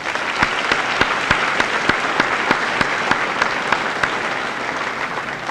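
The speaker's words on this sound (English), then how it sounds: "Let's give these people a nice round of applause." A crowd at a high school senior assembly applauds, a full steady roar of clapping with regular sharp individual hand claps cutting through, sustained at even loudness across the whole stretch.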